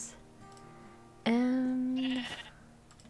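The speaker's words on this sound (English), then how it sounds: "we're gonna take out the sheep so we can have a bed and some food already" A sheep in Minecraft gives one loud, drawn-out bleat lasting about a second, clear and close over a quiet background, followed by a brief rustle.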